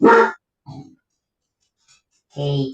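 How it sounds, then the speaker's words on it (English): A dog makes short, throaty grunts and snorts in a few separate bursts with quiet gaps between them, close to the microphone, and a man briefly calls out once. "sorry about my dog"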